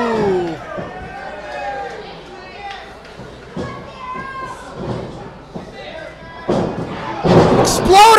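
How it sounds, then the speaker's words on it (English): An exploder suplex drives a wrestler down onto the ring mat during a women's wrestling match, landing as a couple of loud, heavy thuds near the end, with excited commentary and crowd noise throughout. "Sierra with an exploder suplex."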